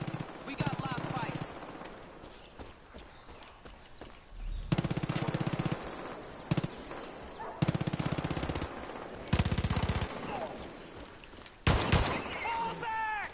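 Bursts of automatic gunfire in Far Cry 5, several loud rapid machine-gun volleys separated by short pauses, with shots echoing and some game voices between them.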